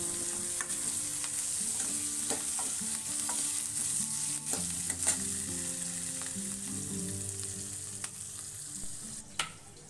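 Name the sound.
tomato and garlic frying and being stirred in a pan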